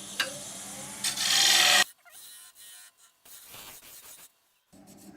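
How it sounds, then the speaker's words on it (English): A woodturning scraper cuts the inside of an end grain macadamia lidded box on a lathe, giving a loud, steady rasping scrape that stops abruptly, followed by quieter intermittent scraping and rubbing. "I'm going to go through it with my scraper."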